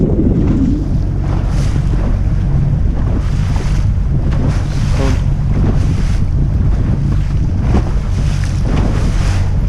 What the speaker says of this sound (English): you can see the breeze is slightly picking on again